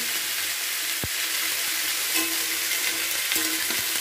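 Kundru and potato stir-fry hiss loudly and evenly in hot oil up close, with a few soft knocks from the spatula against the pan and no talking.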